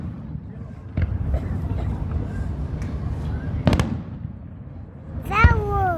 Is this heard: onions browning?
no